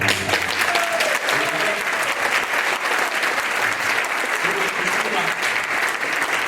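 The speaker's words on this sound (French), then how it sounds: "Vous applaudissez" Sustained applause from a crowd at a regional election political rally in Lille, dense and even throughout, with a few voices faintly audible beneath the clapping.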